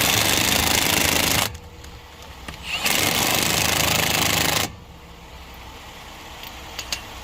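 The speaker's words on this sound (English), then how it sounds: "Now they say you can't use an impact on these things, but I've been doing this forever." Impact wrench tightening lug nuts on a Land Rover LR4 wheel: two loud, sustained rattling hammering bursts, each about one and a half seconds long, separated by a short quiet gap and followed by softer handling noise.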